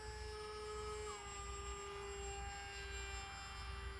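An Aeroscout RC model airplane flying in to land on a spring day, a steady, faint electric motor whine with a sustained tonal drone and slight pitch shifts, heard at a distance with no talking.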